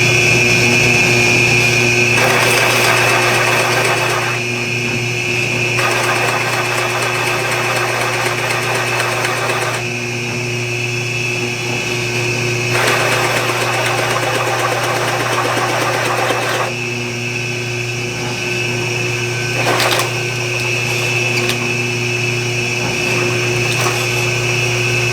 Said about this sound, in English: Now I could have easily drilled that out straight through in one shot.